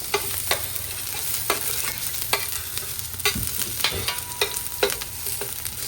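Onion and garlic sauté in hot oil for Filipino pochero, giving a steady sizzle broken by regular scraping strokes of a utensil stirring the pan, close and clear.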